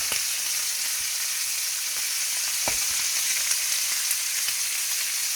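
Rabbit pieces, seasoned with salt and pepper, sauté in a frying pan with a steady, bright sizzle throughout, a few soft clicks of stirring breaking through the continuous crackle.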